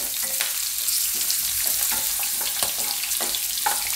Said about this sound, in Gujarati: આ રીતે થોડાક તેલમાં ફ્રાય કરી લઈએ એટલે આપણે શાક એકદમ જલ્દી ચડી જાય.